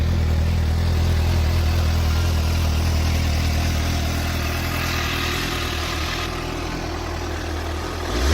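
A 2015 Suzuki GSX-S 750 with its stock exhaust runs at a steady idle: a constant low, even engine drone with faint mechanical clatter, close and fairly loud throughout, with no voices.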